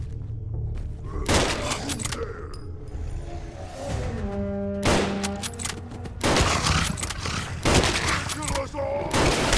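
Gunfire in the video game Fallout 4: repeated loud shots and bursts ring out over a rumbling game soundscape, with sharp impacts spread through the clip.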